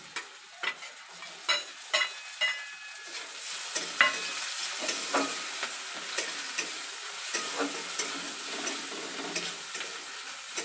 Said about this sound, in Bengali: রসুন আর পেঁয়াজটাকে ভালো করে ভেজে নেব।